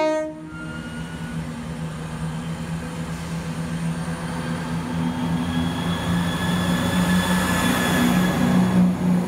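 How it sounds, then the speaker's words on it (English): Class 170 diesel train pulling away towards Ipswich, starting with a short horn blast and then a steady, building engine drone as it departs, with no talk. "Another 170 departure towards Ipswich,"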